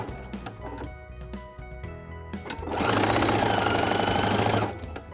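Sewing machine stitching diagonally across quilt binding, a steady loud whirring run of fast needle strokes lasting nearly two seconds, preceded by quieter handling clicks and rustling.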